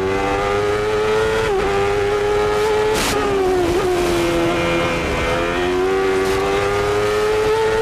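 A loud Lola CART race car engine roars from onboard at Laguna Seca in 1993, revs rising and dropping through gear changes and corners on the uphill run, continuous throughout.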